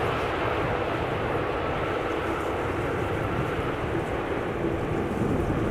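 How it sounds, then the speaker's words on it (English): A KLM Boeing 787-9 Dreamliner on arrival at Amsterdam Schiphol Airport gives a steady, broad engine roar that holds level and fairly loud throughout, with no voices. "This was a 7879 Dreamliner arriving from Austin, Texas."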